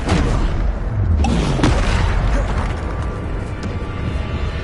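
Bombarder spell explosions in Hogwarts Legacy, heavy booming blasts with crashing debris over a continuous loud rumble, several impacts in quick succession.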